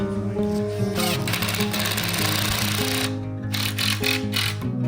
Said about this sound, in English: Then we screwed them together at each corner, pre-drilling holes so we didn't split the wood.